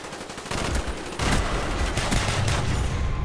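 Burst-fire gunshots from an assault rifle in Call of Duty Black Ops multiplayer, rapid loud cracks arriving in clustered bursts that stack into continuous close-range fire.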